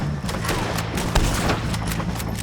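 Rapid Western-style gunfire against O'Driscoll gang members in Red Dead Redemption 2, a dense continuous fusillade of overlapping shots and thuds, with shouted voices mixed underneath.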